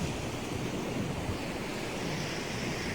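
Ocean surf rolls onto the beach at Cape San Blas, Florida, a dense continuous wash of breaking waves with a low rumble, steady and fairly loud with no voices.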